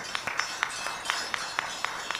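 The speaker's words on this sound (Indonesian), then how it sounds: "Tepuk tangan sekali lagi untuk Partai Nasdem" Partai Nasdem is applauded with a steady, rhythmic clapping of evenly spaced, fairly faint claps, no voices over them.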